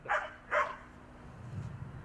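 An Akita Inu dog gives two sharp, close barks in quick succession, then falls quiet apart from a faint low rumble.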